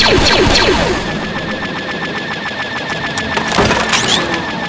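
Rapid automatic gunfire in a modded Star Wars Battlefront III battle on Tatooine, loud dense bursts with echoing crackle and layered shots filling the whole stretch.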